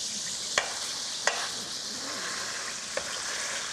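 Lamb pieces fry in a pan with a steady, close sizzle, broken by a few sharp clicks of utensil against metal.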